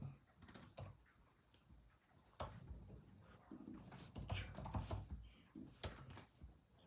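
Typing on a computer keyboard comes in short bursts of close, crisp key clicks with brief pauses, fairly quiet and with no clear talk.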